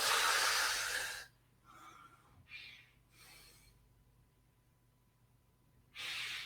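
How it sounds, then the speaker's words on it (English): A person breathing slowly in and out during a guided breathing exercise, with a long, loud airy breath at the start and another at the end, and quieter soft breaths in between. "Breathing in and breathing out."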